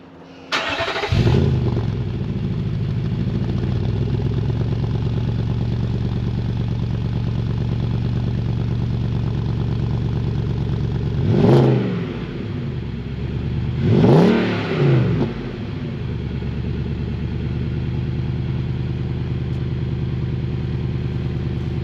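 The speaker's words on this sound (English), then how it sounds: "dash off-road, cat back exhaust, cold startup." A Nissan Y62 Patrol with a DASH cat-back exhaust fires up from cold, settling into a loud, steady idle that runs for about twenty seconds. Two brief revs swell and fade near the end.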